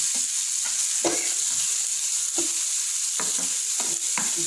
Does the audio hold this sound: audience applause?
no